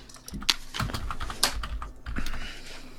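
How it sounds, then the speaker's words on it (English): Rapid, uneven keystrokes clatter on a computer keyboard during an online game session, a steady run of close clicks and taps with no talk over them. "He's typing."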